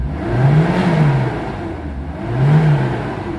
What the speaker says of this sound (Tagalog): So ito na ngayon yung Adventure na 4G63, running na po ngayon siya.